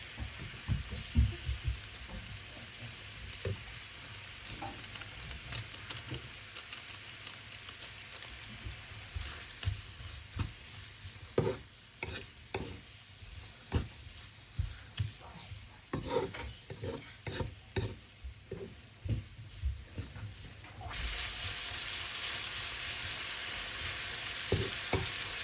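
Capsicum and egg noodles are tossed with salt, noodle masala and cumin powder in a pan, with a steady sizzle under repeated scraping and clattering strokes of a spatula that continue throughout, close and fairly loud.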